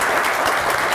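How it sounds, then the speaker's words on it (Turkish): Steady applause from a studio audience on the Turkish TV word-game show Kelime Oyunu, a dense, even wash of clapping filling the whole moment with no voices over it. "Onu temsilcinize bir alkış daha verirsiniz."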